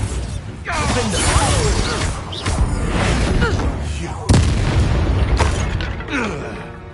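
The Bombarda spell going off in the video game Hogwarts Legacy: a loud, booming blast with crumbling debris and further bursts rolling on for several seconds, and a voice speaks over it.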